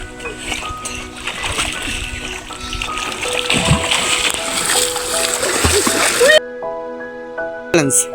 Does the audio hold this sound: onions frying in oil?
no